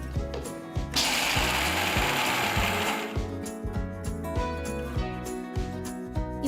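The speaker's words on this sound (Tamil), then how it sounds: "நெக்ஸ்ட் நான் கொஞ்சமா வேர்க்கடலையை அரைக்க போறேன்." About a quarter cup of peanuts ground in an electric mixer grinder, a loud rattling whir that surges in a dense burst early on, then continues as a choppy, clattering mechanical churn.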